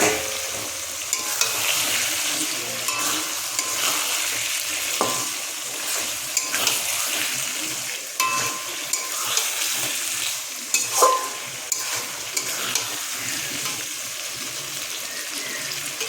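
Spice masala and chopped tomato fry in a pan for a chicken curry, a continuous sizzling hiss up close. Scraping stir strokes and occasional knocks of the utensil against the pan run through it.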